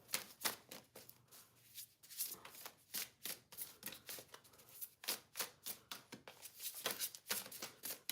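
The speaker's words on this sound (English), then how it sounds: "Just gonna shuffle a couple more times." Playing cards shuffled by hand, a series of quick riffling bursts with short pauses between them, close but soft, no speech.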